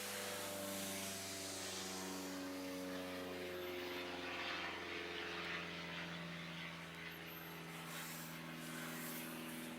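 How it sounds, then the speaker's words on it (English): A small propeller plane drones overhead above Florence, a steady, distant engine hum with a slowly shifting pitch that persists evenly for about ten seconds, with no talking. "That's a little plane flying over Florence."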